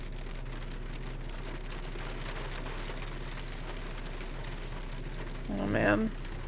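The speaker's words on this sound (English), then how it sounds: "the hail on the roof" Hail drumming on a roof, a steady dense patter running throughout at moderate level, with a brief louder burst near the end; no talking over it.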